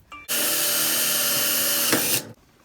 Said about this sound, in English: So I'm drilling these holes because I wanted to put the rubber back on this.